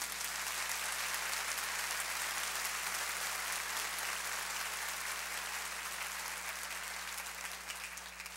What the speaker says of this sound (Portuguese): Você pode dar uma salva de palmas a esse Jesus.